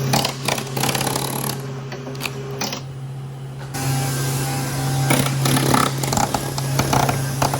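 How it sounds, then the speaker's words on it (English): Power grinder working the inner fiberglass laminate of a Formula Sportsman boat during restoration, a steady loud whine with a constant hum, cutting in and out as the tool bites and eases off, with no talking. "giving the inner laminate a grinding down to nice fresh fiberglass"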